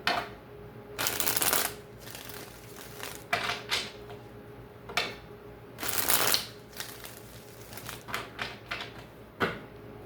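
Tarot cards are shuffled in several distinct riffling bursts, crisp and close, with quiet pauses and a few lighter card snaps between them; no talking.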